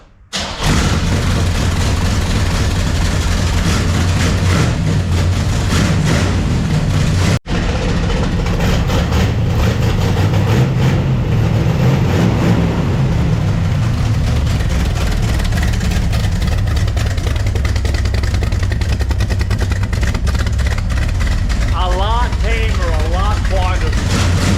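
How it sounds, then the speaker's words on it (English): A 1966 Corvette with fabricated side exhaust cold starts with a thump, settles into a loud, rumbling idle close by, then gets a couple of quick revs, with a brief break partway through. "tap the gas a couple of times, and we're gonna find out how loud or quiet this car is"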